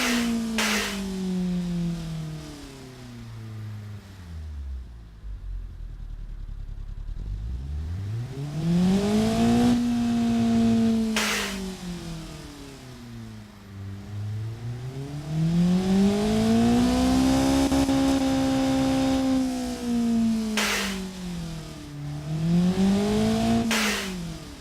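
A virtual car engine, an MG6 rival built in the Automation car tycoon game, starts up and revs in repeated swelling and falling sweeps, loud and close with no talking.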